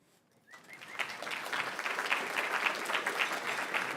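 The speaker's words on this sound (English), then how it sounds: "can we give Tammy one more big round of applause of welcome in her new role?" An audience at a benefit evening for L'Arche Noah Seattle breaks into applause after a short quiet moment, clapping steadily and building to a full, sustained round.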